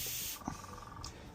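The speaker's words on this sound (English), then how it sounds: "I'm going to spray every one of these a bit." Spray paint hisses onto a wire dragonfly in a short, close, loud burst, followed after a pause by a second quick puff.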